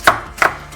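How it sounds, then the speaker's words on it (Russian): A knife slices firm, older cabbage into thin shreds for a salad, giving two crisp, close chopping strokes with no talk. "Капусту нарезаю тонкой стружкой."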